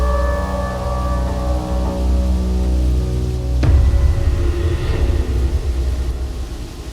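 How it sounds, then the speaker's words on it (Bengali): Heavy rain falling at night as a steady close wash, with a sharp crack and deep rumble of thunder midway, then continued downpour. "বৃষ্টি তো থামার নামই নিচ্ছে না রে।"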